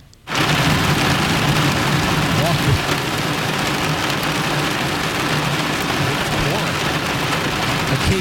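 Rain and thunder sound effect played back: steady loud rainfall hiss with low rumbling underneath, starting abruptly and continuing without pause.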